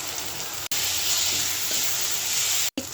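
Mrigal fish masala with chili powder, turmeric and peas fries in a pan, giving a dense, even hiss of sizzling oil that cuts out briefly twice.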